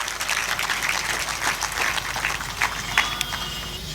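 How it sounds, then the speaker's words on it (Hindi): A hall audience breaks into loud, sustained applause at a spiritual celebration and initiation gathering, dense steady clapping with no voices over it. "इसलिए इनके लिए आप जोरदार तालियां बजाएंगे"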